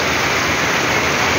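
Heavy rain pours down at a flooded Islamabad market, a loud, dense, continuous hiss of downpour close by with no voices.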